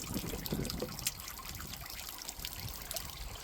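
Water trickling steadily from a leak in a gold sluice mat setup, a continuous close dribble and splash with no voices over it.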